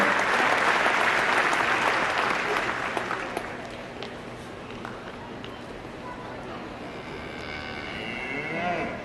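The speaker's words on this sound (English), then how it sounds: "Let's give the North American a big round of applause for hosting the steer show" An audience at the 2013 North American International Livestock Expo steer show claps in sustained, loud applause that slowly thins out, with an announcer speaking over the arena noise.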